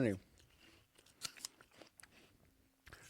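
Crunchy bites and chewing of an apple close to a microphone, irregular wet crunches and snaps scattered between brief spoken words.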